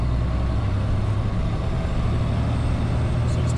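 A 10-speed truck engine during a road-test drive, a loud steady low diesel rumble held without break, close and continuous, with no audible gear change or talking.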